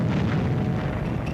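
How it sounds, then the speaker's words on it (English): A deep, sustained boom from the Pearl Harbor attack rumbles on as a dense, loud wall of low noise with no pause, like a distant blast rolling out. "We heard an explosion"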